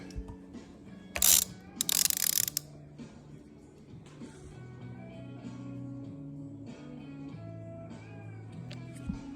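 A Honda CB100 engine is turned over by hand toward top dead center, producing close mechanical ratcheting clicks and gear whirs, with a couple of loud bursts early on followed by softer, steady grinding rotation.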